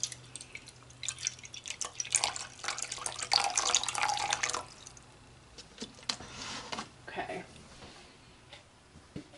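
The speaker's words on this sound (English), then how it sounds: "So I'm going to measure out for the water of this recipe." Water trickles and splashes into a measuring container for a brine soap batch, a soft, close pouring that swells for a few seconds and then tapers into light drips, with no talking.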